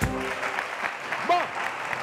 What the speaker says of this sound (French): Applaudissons encore pour lui